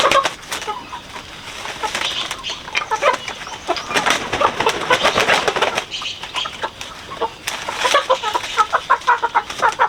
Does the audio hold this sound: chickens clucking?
yes